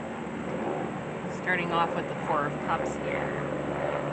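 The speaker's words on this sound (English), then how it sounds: "Sorry about the plane." Plane passing overhead outdoors, a steady broad engine rumble with faint rising and falling tones running throughout, under a person talking during a tarot card reading.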